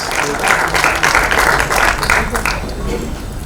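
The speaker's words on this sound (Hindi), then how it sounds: "Abhishek Pathak, ladies and gentlemen, जोरदार तालियां please." Loud crowd applause greets director Abhishek Pathak at a trailer launch press conference for the film Raid 2, a brisk burst of many hands clapping that gradually thins toward the end.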